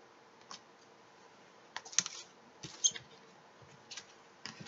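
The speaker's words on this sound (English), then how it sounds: "cards are sliding all over the place." Tarot cards sliding and being shuffled, a handful of short, crisp papery swishes and taps at irregular intervals, close and fairly quiet.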